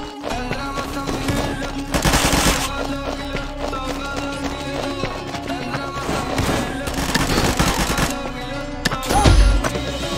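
Gunfire rattles in the shooter game Combat Master, rapid bursts of automatic shots and repeated single cracks running steadily and loud, with brief louder blasts partway through.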